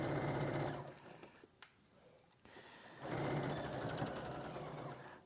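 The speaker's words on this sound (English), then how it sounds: "I'm just going to sew across there." A domestic sewing machine runs a seam in two steady, close bursts, one at the start and a longer one later, separated by a quiet pause with a few small clicks.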